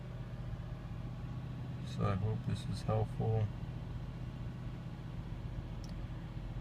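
A Mercedes ML430 engine hums steadily at constant revs near 2,000 rpm, a close, even drone that continues while someone talks briefly over it.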